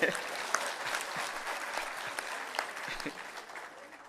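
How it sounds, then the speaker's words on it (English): An audience applauds steadily, a dense wash of clapping from many hands that fades slightly toward the end. "Let's give her a round of applause."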